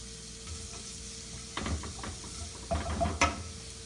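Garlic sautéing in a small frying pan, a soft background sizzle that swells into louder crackling bursts as it is stirred, close by and without speech.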